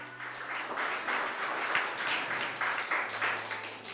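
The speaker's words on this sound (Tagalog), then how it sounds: "Pumalakpak!" Congregation applauding in a church service, a dense, sustained wash of many hands clapping together at steady volume for several seconds.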